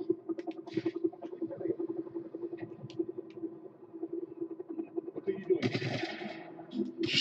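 Rapid bursts of automatic gunfire from the Just Cause 3 video game on an oil rig rattle at low volume in quick repeated volleys, with a louder noisy burst near the end.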